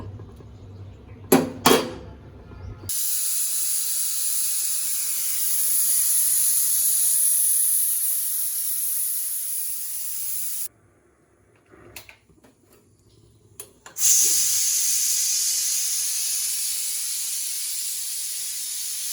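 A pressure cooker holding lentils with bottle gourd greens vents steam in a long, loud hiss that fades, stops and starts again, with a few short clatters between the bursts.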